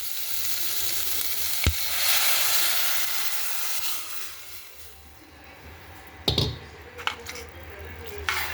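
Soaked khichdi rice and lentils hit a hot pan of oil, giving a broad, steady sizzle that gradually settles, with a few sharp clinks and scrapes from the pan.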